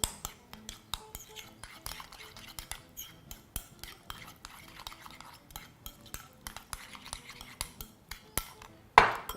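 Chicken gyro salad tossed in a bowl with cutlery, giving steady clinks, scrapes and stirring taps close by, with a louder knock near the end and no talking.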